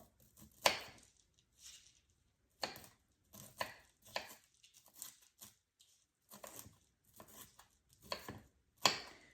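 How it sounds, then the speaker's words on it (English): A knife chops hard vegetable stems into small pieces on a cutting board for a ham and cheese casserole, making a series of close, crisp, uneven chopping strikes separated by short pauses, with no speech. "Just cutting a lot of that hard stem off of there. And give it a small chop as well."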